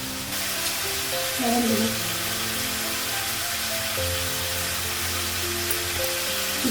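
Spices with turmeric sizzling in hot oil in a pan, a steady dense frying hiss throughout, with someone speaking over it.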